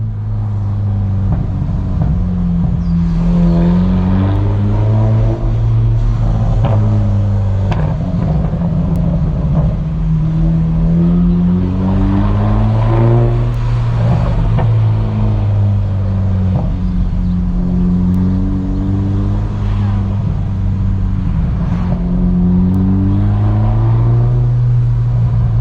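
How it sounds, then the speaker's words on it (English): BMW 1 Series F21 with an aftermarket exhaust accelerating in Eco Pro mode, a loud, close engine drone rising and falling through repeated gear changes, steady and continuous throughout with no distinct pops standing out. "There's a lot more pops and bangs when you're in Eco Pro."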